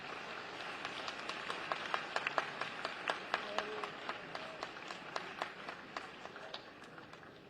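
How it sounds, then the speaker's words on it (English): Audience applause at an international conference of chief justices in Lucknow, steady dense clapping from a large hall crowd, moderately distant, lasting several seconds without speech. "May we have a huge round of applause for sir."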